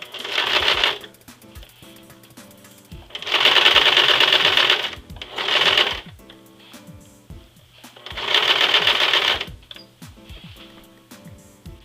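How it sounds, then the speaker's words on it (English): A sewing machine runs along the hem of a pair of jeans in three loud, steady bursts, each a few seconds long, with short pauses between them. "sew as closely as possible to the original hem"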